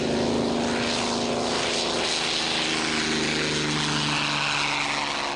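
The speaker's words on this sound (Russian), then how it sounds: "На первом круге истребитель убирает шасси и набирает скорость." A restored Soviet MiG-3 piston-engine propeller fighter flies overhead, its engine droning loud and steady with a strong harmonic hum that holds throughout.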